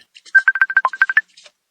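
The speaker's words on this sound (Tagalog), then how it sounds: "Ang ako ba ng classmate sa high school di ay ang nanawag ni Conching Gonzales" A telephone gives one short electronic ring, a quick run of about ten rapid pulsed beeps lasting roughly a second, loud and close, with no voices.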